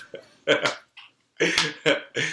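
A man lets out a loud, guttural burp during a sports talk podcast, broken into several throaty bursts with short gaps, close to the mic and on its own without talk.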